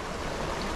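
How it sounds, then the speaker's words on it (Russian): A clear, cold mountain stream on the road to Lake Zhasylkol in Kazakhstan, flowing with a steady close rush that stays even throughout. "я просто от такой жажды пришел на этот ручей. Он прям очень прозрачный"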